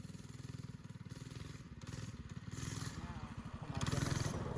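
A small minibike engine revs hard while it wheelies uphill, a buzzing, rattly single-cylinder drone that climbs steadily in pitch and loudness toward the end.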